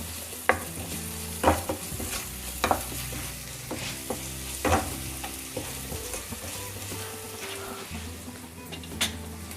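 Pasta with chili flakes stirred and fried in a pan, a steady sizzle under repeated scraping strokes of a spoon, close and moderately loud, with the odd clink of utensil on metal.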